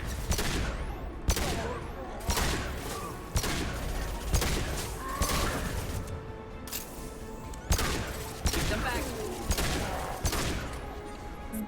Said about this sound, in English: This gun's really loud, though.